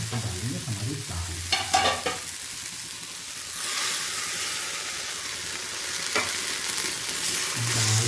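Toor dal is tipped into a hot tempering of spices in a pan, bursting into a loud sizzle, then stirred with scraping strokes while the frying hiss swells and settles.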